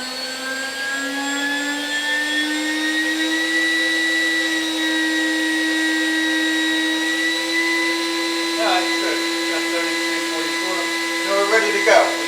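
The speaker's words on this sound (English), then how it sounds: "We got the lathe is up and running. The spindle motor is cranking, the cutter." A lathe runs with its spindle motor and cutter going, giving a steady high mechanical whine with a constant tonal hum, loud and unbroken, joined by a few faint knocks near the end.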